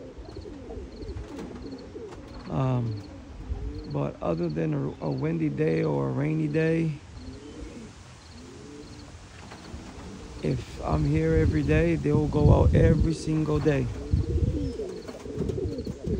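Young racing pigeons coo steadily in a loft on a windy day, soft repeated calls running beneath someone talking at close range for most of the stretch.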